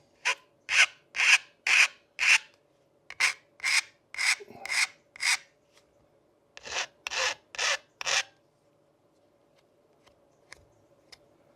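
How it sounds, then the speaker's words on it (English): Fine metal file rasping a burr off a metal edge on a Jaguar XK8 XKR window scraper job, heard as about fifteen short, close, bright strokes in quick rhythmic bursts with brief pauses, no talking. "I'm just going to take the burr off that edge, fine file."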